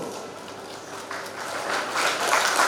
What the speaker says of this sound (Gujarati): ભગવાનના ભજનમાં તાળી જોરદાર પાડીને ભજન કરો